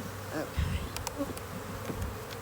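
A close, continuous drone of honeybees buzzing in a hive with the queen, with a few soft knocks and rustles mixed in.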